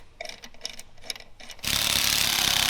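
A power tool rattles in short impact bursts while bolting the front tires onto an off-road bread van, then gives way to a loud, steady noisy whir lasting about a second, with no voices.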